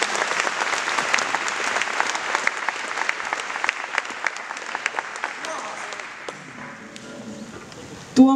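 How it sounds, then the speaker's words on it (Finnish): Concert audience applause at a tribute concert in Forssa, a steady roar of many hands clapping for about six seconds, thinning out toward the end as a voice starts to talk. "Antakaa itsellenne isot aplodit."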